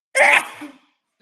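A single sharp, close sneeze bursts out loudly and trails off into a brief breathy tail, followed by silence.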